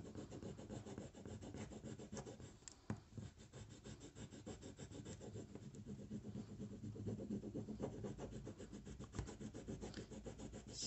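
Opened rye straw for marquetry scraped to remove its small defects, a continuous close rhythmic rubbing and scratching of tool on straw, quiet and steady with no talk.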